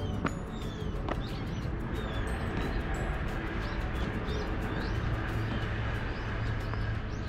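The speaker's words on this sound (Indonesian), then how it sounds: "di dalam kota tapi burungnya masih banyak" Birds call and chirp in a Japanese city in the morning among cherry blossoms, several small sharp tweets scattered over a steady hum of traffic, with doves cooing softly in the background.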